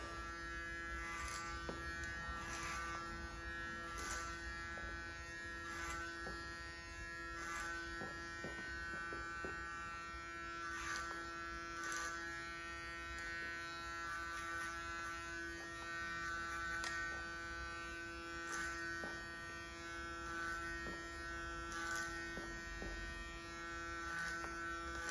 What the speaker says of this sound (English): it's time to clipper the underneath off, creating a beautiful graduated shape using a clipper over comb technique